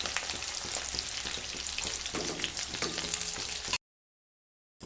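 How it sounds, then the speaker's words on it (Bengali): Fifty grams of small prawns fry in hot oil, giving a dense, steady sizzle with crackling that runs for nearly four seconds and then cuts off abruptly into silence. "পঞ্চাশ গ্রাম কুচো চিংড়ি ভেজে নিচ্ছি।"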